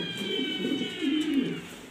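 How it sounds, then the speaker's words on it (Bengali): A rare exhibition-quality pair of pigeons coos steadily nearby, low, throbbing phrases repeating over a faint steady background hum. "একবার আনকমন এক পেয়ার কবুতর দেখার মতো"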